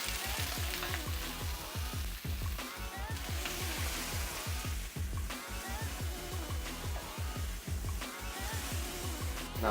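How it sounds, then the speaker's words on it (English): Leeks sauteing over medium heat in a pan for lobster linguine, a dense continuous crackling sizzle with repeated soft clicks running throughout. "Now we're gonna saute our leeks over medium heat until they're soft and almost translucent"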